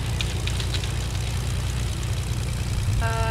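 A plane engine in the Fortnite video game drones steadily and loudly, a constant low rumble with a faint tonal whine rising near the end, no talking over it.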